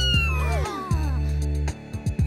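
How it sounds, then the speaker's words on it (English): A cartoon cat meows several times in quick succession, bright wavering cries with sliding pitch, close and clear over a steady tonal music bed. "there's a little cat that needs a new home"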